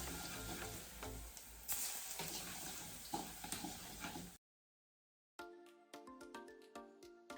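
Sesame and peanut paste sauce stirred in a bowl, a steady wet scraping swirl, then a short silence followed by a string of light spoon clinks against the bowl, close up with no talk.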